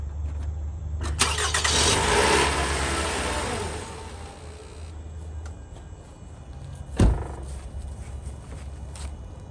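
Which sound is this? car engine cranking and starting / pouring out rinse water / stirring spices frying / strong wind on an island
car engine cranking and starting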